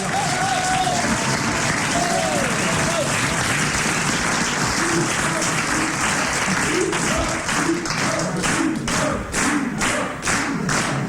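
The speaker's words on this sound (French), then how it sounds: "Rire poli, applaudissements de circonstance" Studio audience applause on a French radio comedy panel show, a dense steady wash of clapping throughout, with sharper distinct claps emerging toward the end and faint voices underneath.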